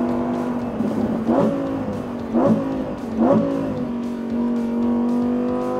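A Lamborghini Huracán EVO RWD Spyder engine accelerating hard, loud and close, climbing in pitch through three quick gear changes, each marked by a brief dip and snarl before the revs rise again.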